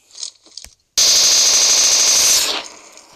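Automatic gunfire on a PUBG training map: a loud, continuous burst of rapid shots lasting about a second and a half, then a short fading tail, after brief quieter handling noises.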